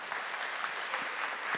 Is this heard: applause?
yes